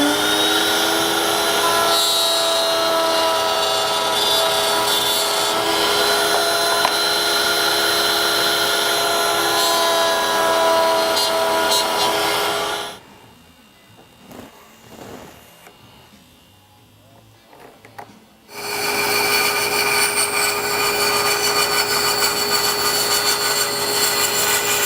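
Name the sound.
bandsaw cutting wood for a steamer trunk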